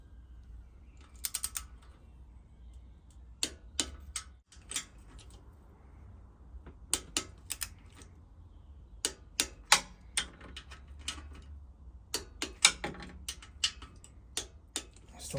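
Torque wrench ratcheting on Harley-Davidson Twin Cam rocker box bolts: quiet clusters of crisp clicks in irregular bursts, close by, over a low background hum with no speech.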